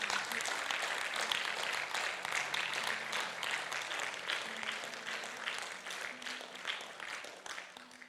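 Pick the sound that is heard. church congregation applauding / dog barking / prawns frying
church congregation applauding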